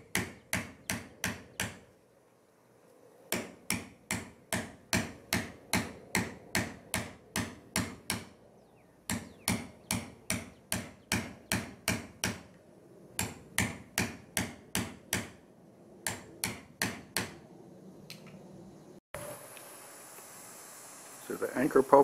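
Steady hand chiseling of wood with a chisel and mallet while building a houseboat anchor pulpit, close rhythmic mallet strikes in quick runs separated by brief pauses, with a rougher scraping noise near the end.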